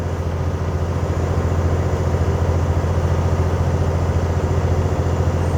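Steady, droning truck engine running on a Colorado highway, a constant low rumble filling the cab with no breaks or talk.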